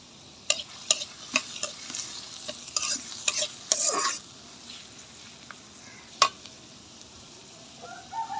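Onions and green chilies fry in a pan for a dried Bombay duck (loitta shutki) bhuna, with a steady soft sizzle broken by sharp scraping stirs and clinks, clustered early and then sparser.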